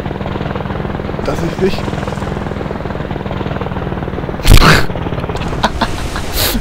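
Steady helicopter rotor drone from the video game Operation Flashpoint, loud and continuous throughout, with a brief louder burst midway and a short voice speaking over it.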